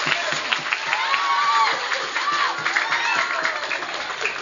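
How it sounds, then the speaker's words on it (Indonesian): Applause from a religious-lecture audience fills the whole span at steady moderate level, dense clapping with some crowd murmur and voices mixed in. "Oh ya tepuk tangan dulu ndak masalah."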